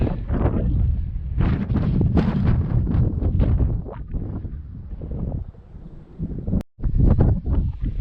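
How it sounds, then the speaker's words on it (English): Strong wind buffets the microphone on a hilltop on the Gritstone Trail in loud, roaring gusts, with a brief dropout near the end before the rumbling blasts return. "You're probably not going to be able to hear anything. It's that windy up here."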